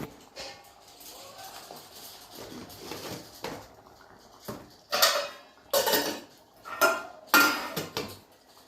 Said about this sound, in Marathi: भाजी हलवून घेऊ